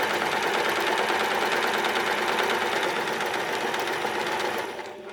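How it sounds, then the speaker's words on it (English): A sewing machine stitches steadily forward and then in reverse for a backstitch, a continuous close mechanical whir with fast rhythmic needle ticking that slows and stops at the end. "So drop your foot and stitch about 3 stitches forward, and then use your reverse button to go back to where you started"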